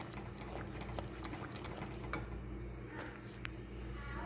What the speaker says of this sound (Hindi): अब इसको पकाते जाएंगे, हिलाते जाएंगे साथ साथ।